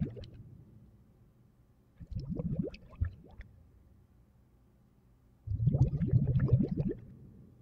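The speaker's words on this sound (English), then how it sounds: "Another layer in the ambience is these bubbles that I have set in a random container" Bubbling water sounds from a looping random container in an Unreal Engine game ambience, coming in irregular gurgling bursts separated by quiet gaps, soft and fairly close.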